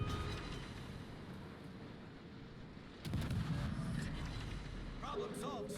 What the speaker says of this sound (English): This guy is just running away, shooting his guns at you.